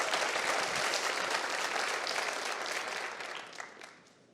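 An audience at a political event applauds school board members, a broad wash of clapping that holds steady and then fades toward the end, with no talking over it.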